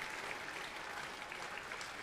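A school audience claps at a middle school Veteran's Day ceremony, a soft, distant wash of steady applause with no voices over it.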